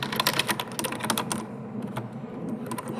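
Rapid typing on a computer keyboard during a tabletop roleplaying game session, with a steady clatter of keystrokes close by, a brief lull, then more scattered key taps.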